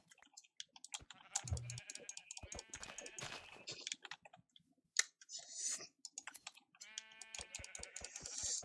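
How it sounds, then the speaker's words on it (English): Sheep bleats from the Minecraft video game, short repeated cries mixed among a busy run of clicking and keyboard typing, fairly close and moderately loud, with no voices. "That sheep is useless to me."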